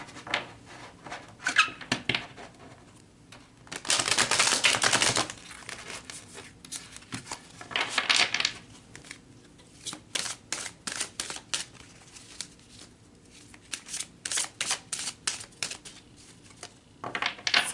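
Tarot cards are shuffled by hand in close, crisp bursts of riffling and flicking, with pauses of quieter handling between them.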